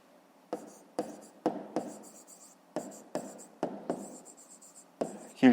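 A pen writes by hand on paper during a fifth-grade maths exercise, giving a string of short scratchy strokes in separate close bursts with small pauses between them and no voice.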